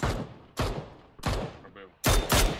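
Bursts of gunfire in a PUBG-style battle-royale shooter, aimed at a vehicle's front tires: four sharp, loud volleys spaced about half a second apart, the last a dense rapid burst, with a voice talking faintly beneath.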